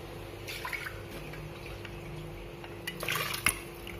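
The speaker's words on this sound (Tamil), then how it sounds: "இப்போ இதில் ஒரு டம்ளர் தண்ணி ஊற்றி கொதிக்க விடுங்க." Water trickles and splashes into a cooking pot of tomato kuzhambu with cooked lentils, a faint, brief pour that rises near the end over quiet kitchen background.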